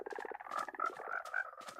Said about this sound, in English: Frog is not supposed to be in water